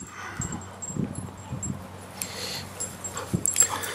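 A dog whimpers in soft, short whines close by, several faint bursts over a low steady background hum, with no talking.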